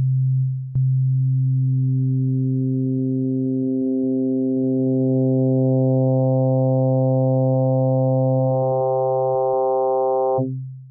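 An FM synthesis tone from a Korg Opsix synthesizer holds one steady loud pitch while overtones gradually build and brighten as modulation rises, then it cuts off, with no voices present.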